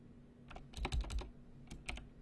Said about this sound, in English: So I'm just typing that in right now